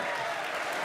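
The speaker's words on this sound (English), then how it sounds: "you can hear the crowd" Crowd applauding and cheering at an Age of Empires esports tournament semifinal, a dense steady wash of clapping, brief and loud, with a voice under it.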